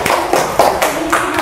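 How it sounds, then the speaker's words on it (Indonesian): A classroom group claps in a steady rhythm, with close, moderately loud hand claps repeating roughly every quarter second across the short stretch. "terus beri tepuk tangan untuk kelompok A"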